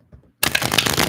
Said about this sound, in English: let me shuffle these cards again here